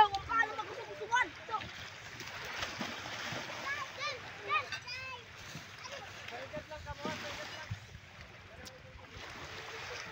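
People splash in sea water at a beach in Tigbao, Aroroy, Masbate, with steady churning and slapping of water close by under constant chatter and children's voices.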